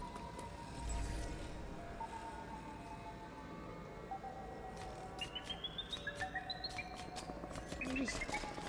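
Chirping from the video game Metroid Dread: a series of short, rising electronic chirps and tweets, quick and evenly spaced, stepping upward over dense in-game ambience and building toward the end.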